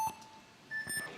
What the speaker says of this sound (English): We wait for the buzzers.